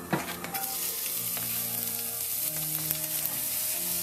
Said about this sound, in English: We're just going to give those a quick fry.